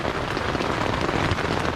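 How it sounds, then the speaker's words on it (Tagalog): Steady heavy overnight rain drumming on a tent, a dense continuous patter that is loud and close with no pauses. "Magdamag na ulan."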